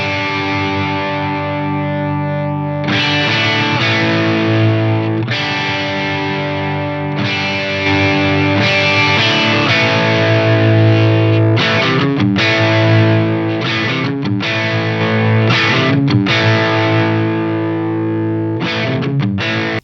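An electric guitar played loud through a Black Magic MK II boost/overdrive pedal gives thick, distorted sustained chords that change every few seconds, followed by quicker chopped strums. It runs continuously with no talking.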